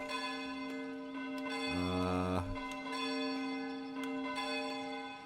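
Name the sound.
church bell ringing in Foundation video game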